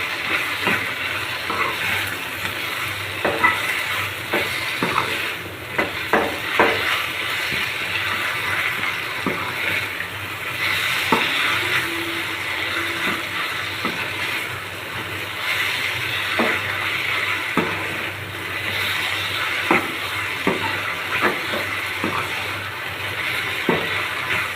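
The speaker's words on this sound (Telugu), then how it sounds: "టమాటాలు బాగా మరుగుతున్నాయి" Tomatoes with turmeric bubble hard in a pan for a brinjal curry, a steady close hiss of boiling broken by scattered spoon clicks and scrapes from stirring throughout.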